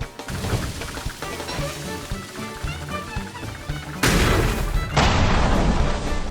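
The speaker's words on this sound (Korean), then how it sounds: "화약 7개 세팅 7개면 폭발로 기절시킬 수 있거든요" Gunpowder charges going off in Don't Starve Together, heard as a loud booming blast that erupts abruptly partway through over game music, then a second burst of noise that rolls on to the end.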